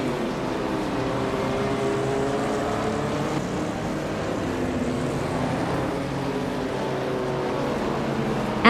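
A 1973 Porsche 911 RS race car engine drones steadily in a racing video game, a sustained buzzing roar with slight pitch shifts and no talking.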